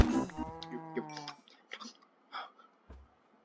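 A Minecraft cow gives a drawn-out, tonal moo lasting about a second and a half, close and clear, followed by a few soft footsteps and small thuds in an otherwise quiet game scene.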